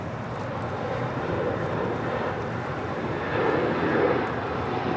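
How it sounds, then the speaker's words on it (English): An Asiana aircraft turns onto a taxiway at LAX, a steady, moderate jet engine hum with a gentle rise near the end, heard from a distance with light wind noise and no voices. "Asiana making that left-hand turn onto taxiway Delta"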